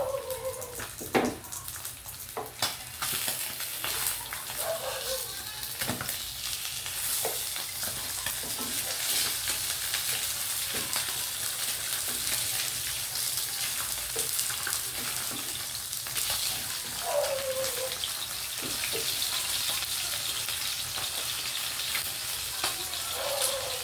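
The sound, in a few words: sautéing vegetables in a pan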